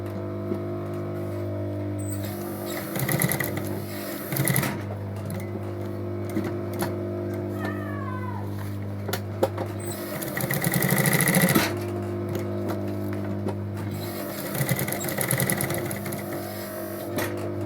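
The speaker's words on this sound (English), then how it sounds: "Stitch it from this end" Sewing machine stitching school backpack fabric, with close, loud bursts of rapid whirring and clattering separated by quieter pauses over a steady low hum.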